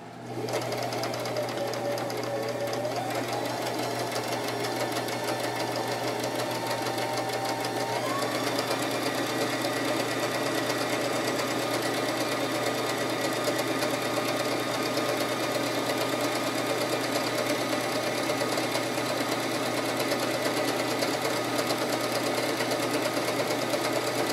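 An electric sewing machine running steadily for a long stretch while back-stitching a tablet cover, a close continuous mechanical whir and rattle with slight shifts in pitch, no speech over it.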